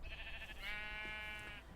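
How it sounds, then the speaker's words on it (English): A sheep bleats once in the video game Minecraft, a single wavering, drawn-out call heard clearly over a faint, low background hum. "there's an awful lot of sheep here"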